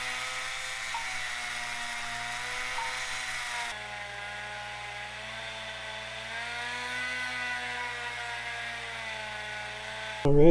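Power tool buffing damaged cam journals on a cylinder head, a steady high-pitched whirring whine with a shifting tone throughout, close and moderately loud, with a brief louder burst at the very end.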